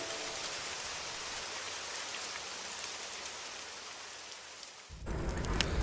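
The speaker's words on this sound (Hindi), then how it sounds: "उतने में बारिश फिर से गिरने लगा।" Rain falls in a steady, dense hiss that grows heavier and louder near the end, used as a sound effect for a spoken story.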